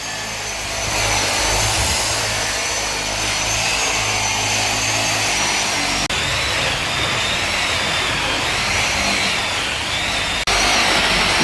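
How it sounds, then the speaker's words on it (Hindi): A power tool polishing a brass Durga Mata idol in Kolkata style, a loud steady whirring grind that runs continuously with brief shifts in pitch, close up and without talk. "अब हो रही है पॉलिश।"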